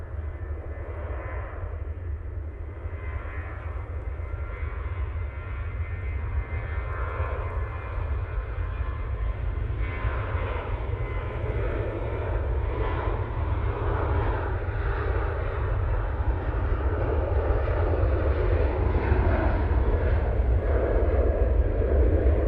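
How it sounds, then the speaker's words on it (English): A TUI Boeing 737 MAX 8 jet takes off from Manchester Airport bound for Lanzarote, its engines giving a loud, sustained low roar that builds slightly and stays steady throughout, with no talking. "And off to Lanzarote we go with this TUI 737 MAX 8."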